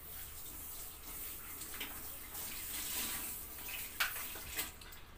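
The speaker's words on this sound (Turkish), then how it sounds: "Şu elimi yıkayım" Steady tap water runs into a sink as hands are washed in a home kitchen, a continuous close hiss with a few brief splashes near the end.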